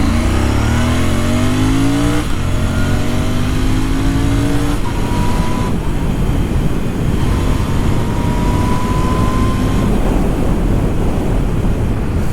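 A Royal Enfield Interceptor 650 fitted with a Red Rooster exhaust revs hard on a public road, its engine note climbing in repeated rising sweeps, loud and close, with short drops between pulls.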